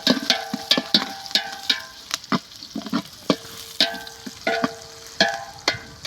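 Whole spices for egg biryani (bay leaf, cloves, cinnamon and more) frying in hot oil: a steady close sizzle broken by frequent sharp metallic clinks of a spoon stirring the pan, with no voices.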